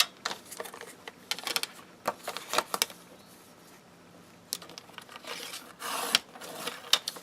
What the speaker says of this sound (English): I'm going to cut it to 5 by 4.